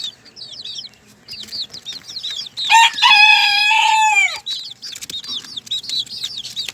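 Sebright bantam chickens in a small coop: repeated close clucks and chirps, with one loud rooster crow in the middle and a brief flutter of wings, no talking.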